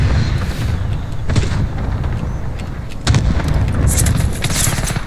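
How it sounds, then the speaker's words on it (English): Gunfire in a rooftop shootout in a video game, with repeated sharp shots and booms cutting through a steady dense battle din for about five seconds, loudest near the middle and end. "I'm being shot at."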